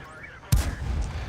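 A single sharp cannon shot from a Panhard EBR 75 armored car in a tank video game, sudden and loud, followed by a rumbling low tail.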